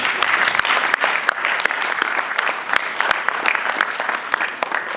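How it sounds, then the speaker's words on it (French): Conference audience at an entrepreneurship event breaks into steady applause, a dense, loud wash of many hands clapping continuously throughout. "Applaudissements"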